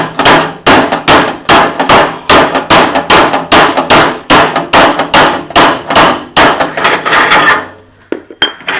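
An empty oil tin can is cut open with close, loud metal strikes in a fast, steady rhythm of about twenty blows, stopping near the end before a few faint clinks.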